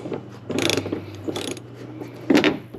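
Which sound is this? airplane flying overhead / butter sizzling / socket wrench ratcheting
socket wrench ratcheting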